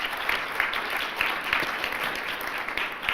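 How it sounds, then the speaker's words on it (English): An audience at a public forum on poverty, quality jobs and livable incomes applauds steadily, a dense, even wash of clapping from many hands filling the room without pause. "Let's give them a round of applause."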